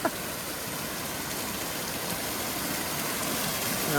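Steady hiss of waterfall spray pouring down on hikers along the Grinnell Glacier Trail, a dense even wash of falling water like heavy rain, constant and fairly close with no talk.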